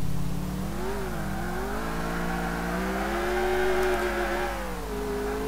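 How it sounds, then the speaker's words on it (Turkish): An engine hums and revs steadily in GTA IV as a car is driven, the pitch rising and falling with gear changes, loud and continuous with no voices. "Kapısız arabamıza binelim."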